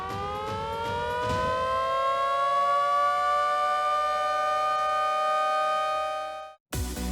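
A loud wailing all-clear siren holds a steady rising tone for several seconds, sustained and continuous, then cuts off abruptly near the end.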